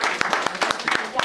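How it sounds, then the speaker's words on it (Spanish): Brief applause from a church gathering, a handful of people clapping in a loose, fairly close rhythm of distinct claps over a short burst. "Un aplauso a nuestro Señor por nuestro hermano."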